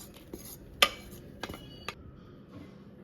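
A metal cooking pot clanks onto a kitchen stove with a sharp near knock, followed by a few lighter metallic taps and clinks, fairly faint overall.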